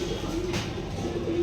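Pigeons coo in a pigeon shop, a soft repeated low cooing murmur carrying on steadily, close by.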